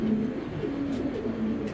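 A pet racing pigeon coos close by, low repeated throaty calls rolling in a soft rhythm over quiet background noise.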